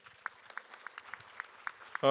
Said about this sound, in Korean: 감사의 박수 부탁드리도록 하겠습니다